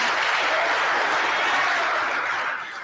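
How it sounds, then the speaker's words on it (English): Crowd applause at a citizen assembly tied to the Gen Z protests, a dense, even wash of clapping that fades somewhat in its last half-second. "Please, let's give them a round of applause."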